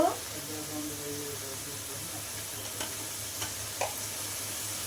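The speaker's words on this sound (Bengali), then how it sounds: "ভালো করে কষিয়ে নেবো মশলাটা" Spice masala being stir-fried in a pan, a steady sizzle with occasional spoon scrapes and taps over a low hum.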